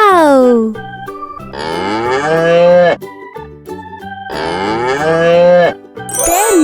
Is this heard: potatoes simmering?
no